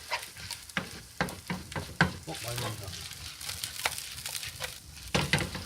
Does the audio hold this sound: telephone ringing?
no